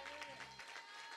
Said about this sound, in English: Let's give the Lord one more great big hand clap of praise.